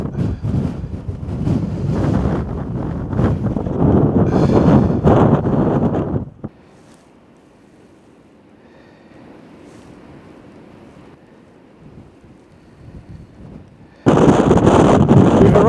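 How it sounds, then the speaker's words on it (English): Strong gusts buffet the microphone on a blustery cliff-top path leading to the lighthouse at Neist Point, loud roaring bursts that drop away to a quiet lull before slamming back in. "It's an incredibly windy and blustery day."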